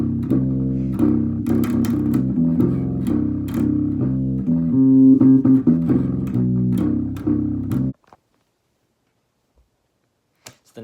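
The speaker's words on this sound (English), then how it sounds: "I also came up with the chorus bass line, and it's going to sound something like this." A bass guitar plays a chorus bass line for a song built on an unusual chord, with steady melodic notes for about eight seconds, then stops and leaves near silence.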